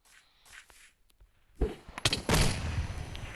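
A grenade explodes in a survival video game played with a weapons mod, a sharp loud blast with a booming rumble and a second burst following after a quiet stretch.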